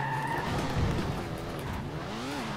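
Race car in Forza Motorsport 7 spinning out, engine tone swooping down and back up while tires scrub and skid, moderately loud with a rough rumble under a wavering pitch.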